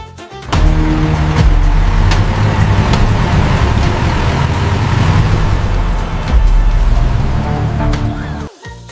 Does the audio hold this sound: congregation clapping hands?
no